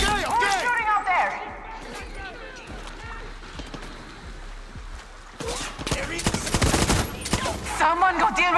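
Bursts of gunfire from the video game Far Cry 6 crackle in scattered volleys, heaviest near the end, while voices talk and shout over the shooting.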